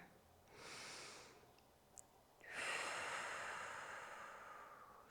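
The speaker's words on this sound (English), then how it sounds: "Take a moment just to take a deep breath here." Two slow, deep breaths during a seated posture exercise, a soft inhale and then a longer airy exhale, close and quiet with a brief pause between them.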